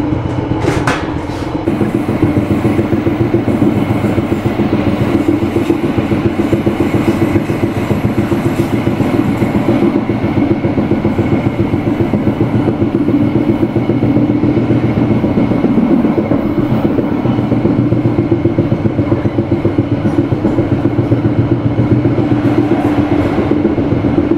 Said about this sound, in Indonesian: kereta api Mutiara Timur tiba di stasiun Pasuruan